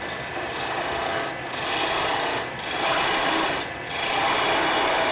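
A half-inch bowl gouge cutting maple on a lathe, a loud continuous shearing hiss in four long passes separated by short gaps.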